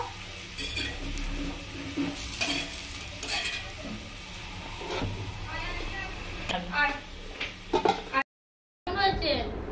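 Pumpkin flowers fry in a pan with a continuous sizzle, punctuated by stirring scrapes and clinks of a utensil against metal; voices talk over it, and the sound cuts out briefly near the end.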